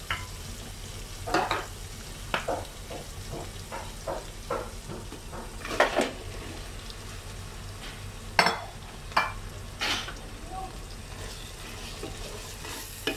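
Sliced onions with crushed ginger, garlic and green chilli fry in a pan for an Andhra-style chicken biryani, a soft continuous sizzle broken by repeated scrapes and clinks of a stirring spoon.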